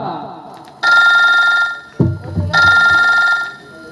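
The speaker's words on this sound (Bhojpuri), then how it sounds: "श्यामू भी फोन करतनी" A telephone rings in two long, bright electronic bursts during a Bhojpuri comedy sketch, with a short pause between them and a brief low voice or thump in the gap.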